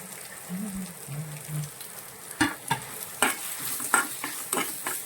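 Prawn thoran masala with dried red chillies, curry leaves and crushed coconut paste is stirred in a frying pan, sharp scraping strokes clustering in the second half over a steady light sizzle, with no talk.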